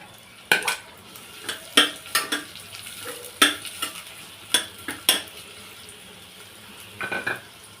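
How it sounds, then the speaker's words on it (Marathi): Two medium sliced onions are stirred and sautéed in a pressure cooker for chole pulao, sharp intermittent scrapes and clinks of a spoon against metal over a soft, quiet sizzle. "कांदा आपल्याला पूर्ण लालसर होईसपर्यंत परतवून घ्यायचा आहे"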